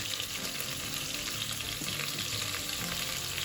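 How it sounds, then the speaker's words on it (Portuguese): Sausage sizzles and fries steadily in a pan as the base for a Bahian okra stew, a loud, continuous crackle with a faint stirring texture and no voices. "E vou deixar isso aqui fritar mais um pouquinho."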